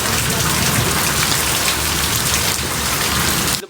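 Heavy rain pours down steadily during a storm, a dense, loud, unbroken hiss of water that continues without pause and then cuts off abruptly at the very end, with no voices.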